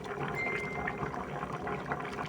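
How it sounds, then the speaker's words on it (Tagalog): Ginataan, a coconut milk dish, bubbling and simmering in a pan, with a steady dense wash of liquid burbling, close and continuous. "Kumukulo na."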